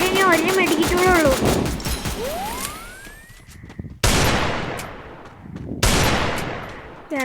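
Gunfire in the Free Fire mobile battle royale game: rapid bursts of automatic shots ring out, followed by a rising whistle and two sharp, loud blasts with decaying tails, while a voice talks throughout.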